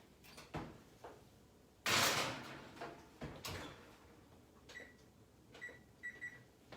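Oven door shutting on a tray of saltine toffee bark, one sharp thump followed by a few fainter clunks and clicks, quiet and close in a home kitchen.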